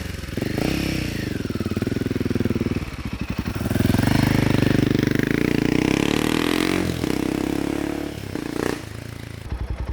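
A motorcycle on a test ride rumbles loud and close with a steady engine drone, rising under throttle with rattling and wind rush.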